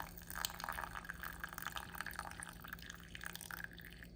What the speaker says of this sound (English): We're adding 120 milliliters of water.